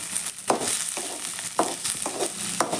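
Onions and green chillies stir-fried in oil for an egg poriyal, a continuous sizzle broken by rhythmic scraping strokes of a spatula roughly every half second, fairly close and moderately loud.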